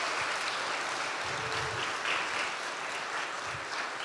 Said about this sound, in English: Please join me in giving a warm round of applause for our sponsors and supporters.